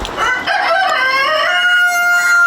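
Roosters crowing loudly and close, with overlapping drawn-out calls and some clucking from chickens nearby.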